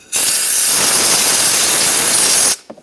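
A burst of compressed air blasting packed sand out of a car part during exhaust manifold work on a 2012-2017 Toyota Camry, a loud steady hiss lasting over two seconds before stopping sharply, followed by faint clatter.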